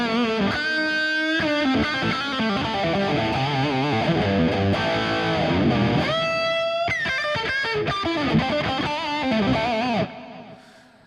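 High-gain electric guitar rhythm playing through a Fractal amp modeler on the Herby channel 2+, with dense distorted chords and fast riffs, loud and continuous before cutting off near the end.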